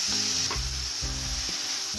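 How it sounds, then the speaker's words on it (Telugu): Tomatoes going into a pan of sizzling drumstick curry, a loud steady frying hiss with a few soft thuds and stirring knocks, close and without talk. "ఇప్పుడు ఇది ఇలాగ అయిపోయిన తర్వాత ఇందులో టమాటా వేసేసుకుంటున్నాను"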